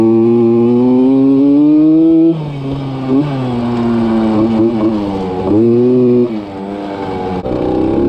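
A Yamaha PW80 dirt bike's small two-stroke engine revs hard and buzzes during a wheelie, close and loud, its pitch rising, dipping and surging again, with no voices.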